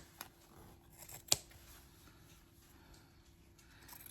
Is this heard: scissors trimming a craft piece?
yes